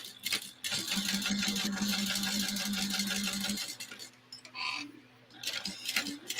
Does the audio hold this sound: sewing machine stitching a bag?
yes